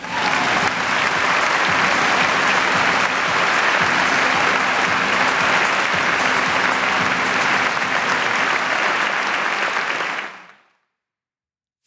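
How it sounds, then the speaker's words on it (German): Loud, dense applause from a packed concert-hall audience at a poetry slam awards show, a steady roar of clapping for about ten seconds before cutting off abruptly. "Bitte begrüßen Sie mit einem tosenden, liebevollen Applaus unsere Laudatorin"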